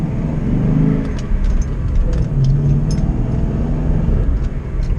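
A Ford Focus ST fitted with an upgraded exhaust and the Ford Performance FR1 power upgrade pack gives a loud, close, deep rumbling engine drone, rising and falling as it revs, with no talking.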